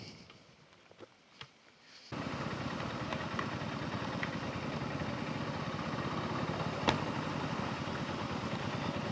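After two seconds of near quiet, a motorcycle engine starts and settles into a steady, even idle that runs without a break to the end, fairly close by.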